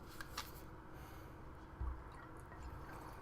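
A blackcurrant drink tablet from a 24-hour ration pack fizzing in water, a steady close hiss of bubbling with faint pops and drips throughout.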